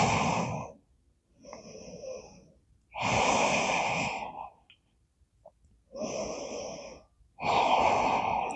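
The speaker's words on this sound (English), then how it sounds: "relaxed breaths." Slow, deep relaxed breaths during a yoga child's pose, about five long soft inhales and exhales close to the microphone, separated by quiet pauses.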